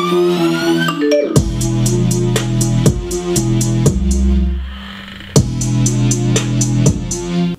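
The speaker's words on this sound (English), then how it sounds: "For the main melody, I'm using Big Pulse Waves." Bright synth melody from the Big Pulse Waves preset in Logic, tweaked, in a trap beat: rhythmic pulsing lead notes over deep bass hits and a steady hi-hat pattern, loud and upfront with no talking.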